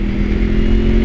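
A Honda VFR motorcycle engine revs as the throttle is flipped in first gear, a loud, close, sustained mechanical roar with a steady hum, heard alone.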